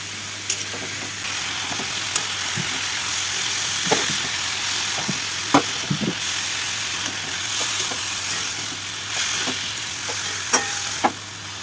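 Green chillies fry in a little oil in a pan, a continuous hissing sizzle punctuated by sharp clicks and utensil taps from stirring, close and steady without speech.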